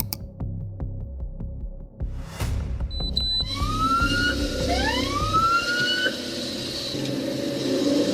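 A police siren wails and sweeps upward, loud and near, during a motorcycle chase on a Wisconsin highway. Engine and traffic noise are heard underneath, and a brief whoosh comes just before the siren starts.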